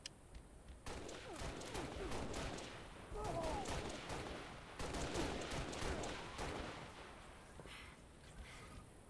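Gunfire in a video game shooter, dense bursts of shots and rattling fire running almost continuously under a steady background bed, fairly faint overall, with short gaps near the start and end.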